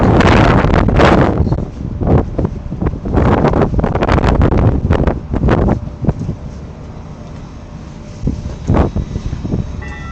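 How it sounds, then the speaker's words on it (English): Strong gusts hammer the microphone in loud, rumbling bursts that rise and fall irregularly, buffeting close and heavy with brief lulls between the blasts. "that wind was brutal"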